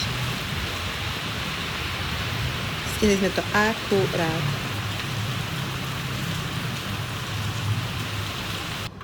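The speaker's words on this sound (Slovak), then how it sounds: "Prišli sme domov a už pekne začalo pršať." Steady rain falling outside during a rainy day in Bali, a continuous hiss of drops on surfaces throughout, with a voice speaking briefly partway through.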